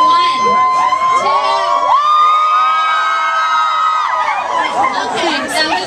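A large Canada Day crowd screams and cheers loudly in a loudest-scream contest, high-pitched shrieks and whoops from many voices rising together and sustained, then trailing into excited chatter.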